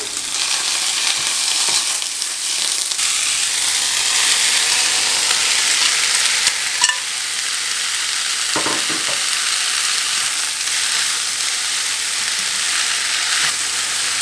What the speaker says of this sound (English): You just want to toss it all together to combine and heat everything back up again